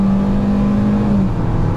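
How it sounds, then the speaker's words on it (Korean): A Hyundai Venue with a continuously variable transmission, in sport mode, strains during a kickdown on an uphill stretch, giving a loud, steady engine drone with a sustained whining tone heard from inside the cabin. "물론 엔진 회전음은 조금 많이 힘들어하는 모습, 많이 좀 커지는 모습이 느껴지기는 한데"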